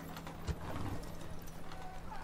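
Light horse cavalry in Rome: Total War Barbarian Invasion clatter along with clip-clopping hooves and a brief whinny, while someone talks over the game sounds.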